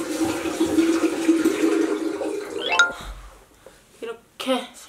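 Tap water runs and splashes while someone washes their face at a sink, a steady hiss that trails off into a few separate splashes and drips near the end.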